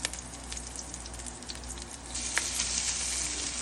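Mustard seeds and chana dal crackle and sizzle steadily in hot oil as they are stirred in a pan, the frying growing louder and denser partway through.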